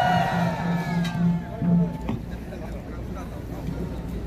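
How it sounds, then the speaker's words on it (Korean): A crowd at an outdoor Korean patriotic rally applauds and cheers in a broad, steady wash of clapping mixed with whoops and voices, fairly loud and sustained. "큰 박수로 환영해 주시기 바랍니다."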